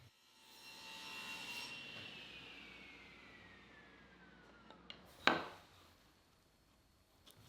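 A saw rips a patch of reclaimed white oak, a faint whirring cut that winds down slowly, followed by a sharp knock and a few small clatters.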